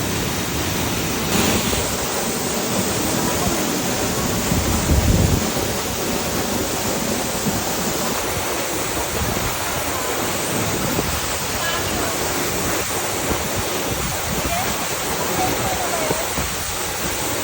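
Baun Falls pours with a loud, steady roar of rushing water, a dense wash of spray that barely changes from start to finish.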